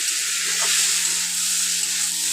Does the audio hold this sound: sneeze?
no